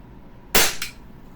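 An Umarex Glock 17 Gen 5 airsoft pistol fires one sharp, close snap with a quick second crack right after, then quiet.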